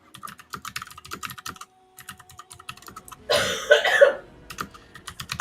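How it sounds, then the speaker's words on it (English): A woman coughs a few times in a short, close burst, with quiet computer keyboard typing clicking before and after. "I heard that cough, young lady."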